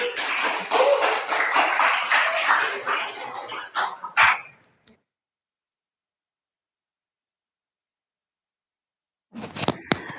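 An audience claps after a clowning workshop talk: a few seconds of scattered, fairly close handclaps that taper off, then silence, then a short burst of taps near the end.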